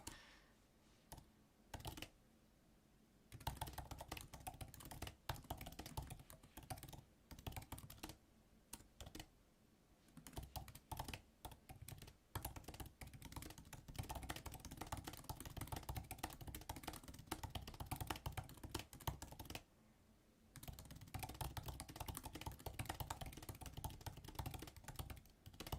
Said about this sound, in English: You know it's serious when I stop talking and start typing.